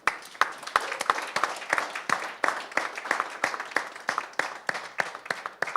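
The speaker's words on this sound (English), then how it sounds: "give you a big applause for all your efforts" Applause at a conference award moment, a small group clapping with distinct individual claps in a loose rhythm, fairly close and moderate in level throughout.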